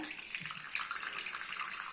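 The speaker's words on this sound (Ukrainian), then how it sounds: "Яка вода в нас тече зараз у крані?" Water runs steadily from a household tap as a continuous broadband hiss and splash, moderately close and unbroken, with no voices.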